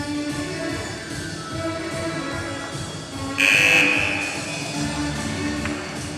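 A loud, steady electronic ice hockey rink buzzer sounds for about half a second over the continuous murmur of a large crowd in an echoing arena during a women's U16 game.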